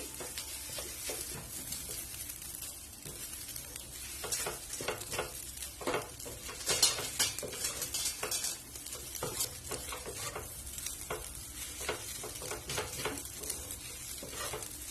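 Egg and idiyappam string hoppers tossed with ghee in a hot pan give a steady sizzle with repeated scraping and stirring strokes throughout, with no voices.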